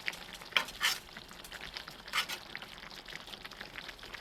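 Jamaican-style brown stew fish cooks down in a pot with a soft, steady simmer and sizzle, faint and close, broken by a few brief clinks of a spoon or lid.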